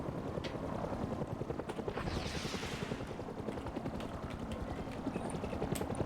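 A helicopter in the Rust video game circles overhead, a rapid rotor chop pulsing steadily and fairly close, with a swelling whoosh midway and faint clicks on top, no speech.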